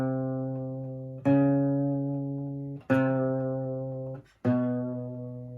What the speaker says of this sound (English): Half step on a guitar sounds like this.